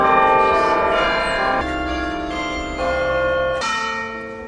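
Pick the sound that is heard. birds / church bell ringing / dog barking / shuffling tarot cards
church bell ringing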